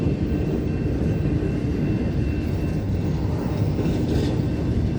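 Union Pacific manifest freight train rolling past on a rainy day, a continuous loud low rumble that holds steady throughout with no voices over it.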